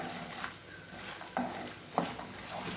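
Poha upma ingredient frying in a pan, a steady soft sizzle with a few louder stirring scrapes and clinks spread across it, close and with no voices.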